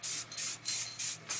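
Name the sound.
spray painting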